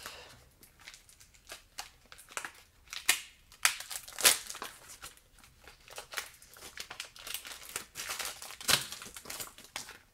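Crinkly plastic packaging being opened around a decorative ribbon, with irregular rustles, crackles and sharp tearing snaps close by, no voice.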